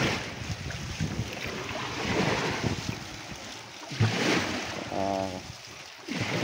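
Outdoor sea ambience from a crab-fishing boat, with wind buffeting the microphone, lapping water and the hum of the boat engine. A brief tonal sound rises near the end.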